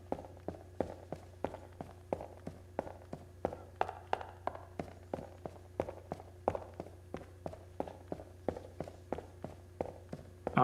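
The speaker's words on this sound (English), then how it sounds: "So now we have a whole new set of footsteps here." Character footsteps on soft dirt or mud in the video game It Takes Two, a brisk, steady run of soft thuds with gritty texture repeating about twice per second over a low constant hum.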